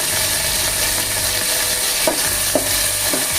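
Dried chillies and curry leaves sizzle in hot oil for a Kerala chicken curry, a continuous bright frying hiss with a few soft stirring knocks near the end and no talking.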